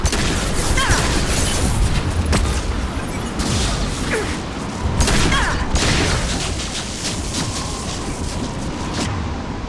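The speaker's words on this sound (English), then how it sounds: "Now, flashbangs." Flashbang grenades go off in a Mass Effect 2 firefight, a dense barrage of booms, bursts and whooshing blasts layered over continuous gunfire, loud and chaotic throughout.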